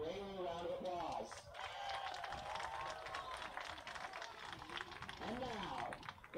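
Crowd applause and cheering at a Valley Heights at Herington high school football game for the class of 1975, a steady roar of clapping lasting several seconds with a public-address voice over it at the start and end.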